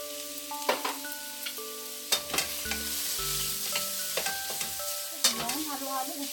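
Shrimp sizzle steadily in a hot pan while a utensil scrapes and stirs in repeated sharp strokes. Faint tonal music plays underneath, and no one speaks.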